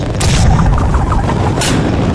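Gunfire in the video game Henry Stickmin Collection: two sharp, loud booming shots about a second and a half apart over a dense game soundscape.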